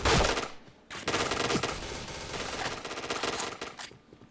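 Rapid automatic gunfire in a video game crackles in loud, dense bursts with short gaps between them, close and punchy, ending with a quieter tail.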